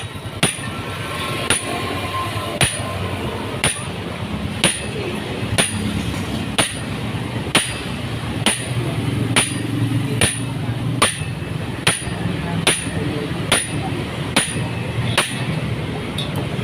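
Regular metallic hammer blows on a Yamaha Mio J scooter part strike at about one per second, sharp and ringing, over a busy workshop background of ambient noise and faint voices.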